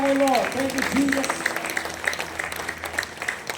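A church congregation gives a loud burst of applause during Sunday worship, a dense patter of clapping that carries on steadily with a voice speaking over it at the start.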